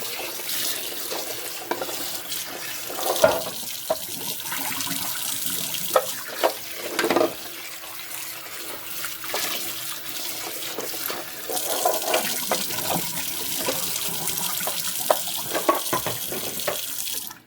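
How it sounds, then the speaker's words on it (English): Cold tap water runs steadily into a metal pot, a continuous splashing rush with occasional clanks, close by and fairly loud, no talking. "I'm just going to run some cold water through it."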